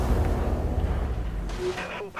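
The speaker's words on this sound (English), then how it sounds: "Look, see how much damage that cannon does?" A ship's cannon in the space-combat video game Dreadnought unleashes a heavy, rumbling blast that rolls on for a couple of seconds, loud and boomy, with a brief electronic tone near the end.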